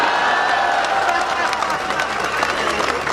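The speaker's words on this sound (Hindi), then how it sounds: "आप सबकी एक साथ तालियां चाहता हूं" An audience at a comedy show applauding, with a steady wash of clapping from a crowd that continues throughout while a voice talks over it.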